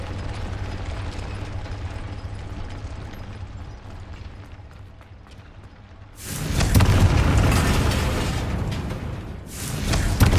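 Confringo fire spell in Hogwarts Legacy, a low rumbling backdrop that swells into a loud sustained explosive blast, followed by a second burst at the end.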